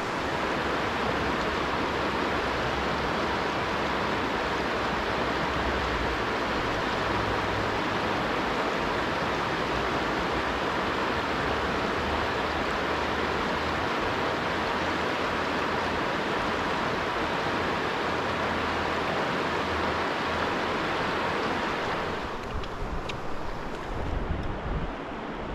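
River water rushes in a steady, loud, close wash that fills the whole span without a break, then eases slightly near the end.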